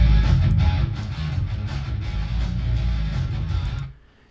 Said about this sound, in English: And here's the sound of the highs section of 2 tape.